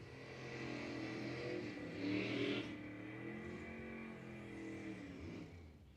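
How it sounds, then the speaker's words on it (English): A Nova race car engine revs at an amateur racing event, a rising and falling throaty roar with a sharp peak of revs in the middle, heard from a short distance without any talk. "You hear the rips from the Nova"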